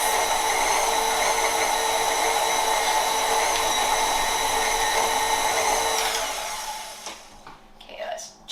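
Stand mixer with a paddle beating vegan chocolate chip cookie dough, a loud steady whir running nearly continuously before winding down at the end.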